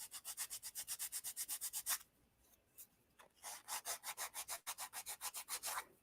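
An emery board filing stick rubs burrs off, in fast, even back-and-forth rasping strokes. A short pause breaks the rhythm, then another steady run of strokes follows, close and crisp with no talk.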